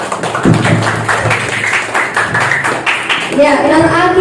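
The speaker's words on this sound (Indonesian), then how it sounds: "kasih apresiasi dan tepuk tangan untuk kelompok" A small group of classmates claps for a presenting team in a school coaching session, with a few scattered claps under ongoing talk and speech-like tones, fairly close and moderately loud.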